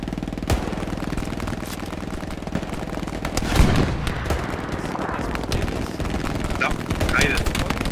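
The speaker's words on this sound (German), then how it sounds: "kommt noch ein zweiter Bombing Run" Booming explosions from a bombing run and rapid gunfire rumble through a dense, noisy battle soundscape in the video game Hell Let Loose, with a few sharp blasts standing out.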